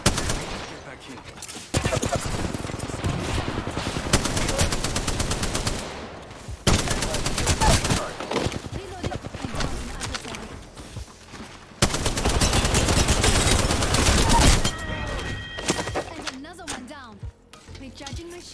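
Gunfire in the battle royale shooter Apex Legends, dense rapid automatic bursts in several long stretches with short breaks, loud and close, with game voice lines over the shooting.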